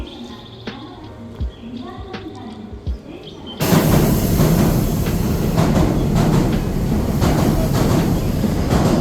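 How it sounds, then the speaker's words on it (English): A train pulls into a station in Japan, its arrival bursting in as a loud, sustained rumble with rail clatter and hiss, after a quieter stretch of station ambience with scattered noises. "Now the train's gonna come in the next like 2 minutes or something."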